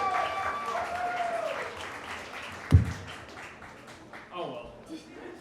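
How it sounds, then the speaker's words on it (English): An audience at a stand-up comedy show claps and cheers in a short burst of applause that fades, with a sharp knock partway through and a voice speaking over it. "So give him a big round of applause."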